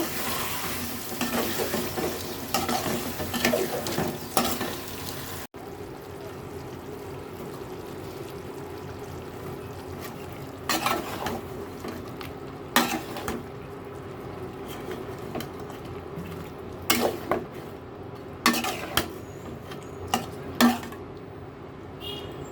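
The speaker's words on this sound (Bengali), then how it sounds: "এখন হচ্ছে আলুটা তরকারিতে মানে ঝোলের মধ্যে দিয়ে দিচ্ছি আলুটা একটু ভালো করে কষিয়ে দেন" Potatoes are stirred into a simmering curry gravy in a pan, a spatula scraping and clattering in irregular bursts over a continuous close sizzle, with no voices.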